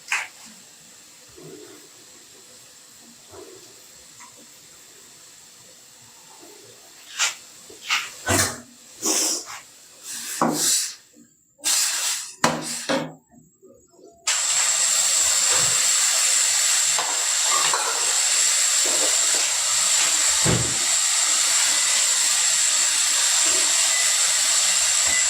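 Steam hisses from a pot of noodles boiling with cauliflower and vegetables, first as a few scattered kitchen clatters, then as a loud, steady hiss that holds to the end.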